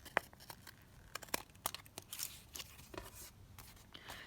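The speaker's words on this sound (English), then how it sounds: "I'll just bring in my decorative scissors again and trim that edge down." Decorative scissors trim the edge of a paper page for a junk journal, giving faint, quick snips and light paper rustles, close and quiet with no talk.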